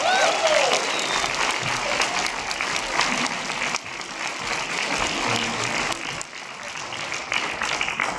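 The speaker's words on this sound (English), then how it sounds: "let's give him a big round of applause" A church audience claps and cheers for a performer, sustained dense applause that carries on steadily for several seconds and eases a little toward the end.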